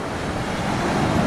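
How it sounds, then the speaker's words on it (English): Ocean waves break on a gravel beach near Puerto Vallarta, Mexico, as a steady, fairly loud wash of broadband surf with no voices over it. "the waves are breaking a little further out"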